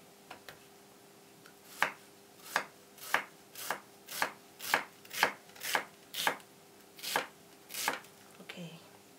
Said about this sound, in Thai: แล้วเราก็จะมาหั่นหอมหัวใหญ่ค่ะ